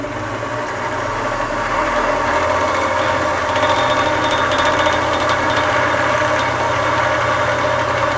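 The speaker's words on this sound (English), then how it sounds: "I'm going to turn it up to 2300 and polish it." Wood lathe spinning up to high speed while polishing a turned ice cream cone Christmas ornament, a steady loud motor whine and hum that rises in pitch early on and then holds constant.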